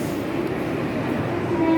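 A Mumbai-area train rumbling steadily, a continuous low droning roar heard from on board with a faint tonal whine near the end.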